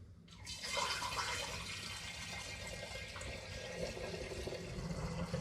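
Beer wort poured back into a glass demijohn, a steady close splashing gush of liquid running without a break.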